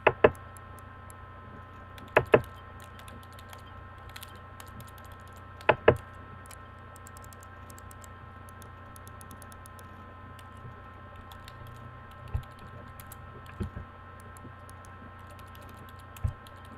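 Keys clack on a computer keyboard in a video game, a few sharp isolated taps and short double strikes spaced seconds apart over a constant low electronic hum.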